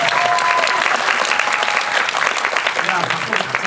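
A dense, steady wash of audience applause fills a Korean movie screening Q&A for the film Hunt at COEX, loud and sustained, with voices faintly mixed in.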